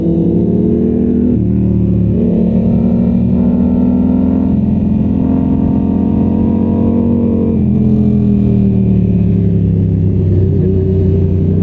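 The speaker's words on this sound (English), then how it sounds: "That's a very nice car on the back of that Mustang." A car rolls past behind a Mustang at a motorcycle night meet, its engine humming and revving steadily at close range for the whole stretch, with no voices over it.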